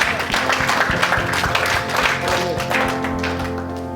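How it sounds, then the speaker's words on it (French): A church congregation applauding loudly and continuously, dense close clapping from many hands, with some voices mixed in. "Acclamez le Seigneur."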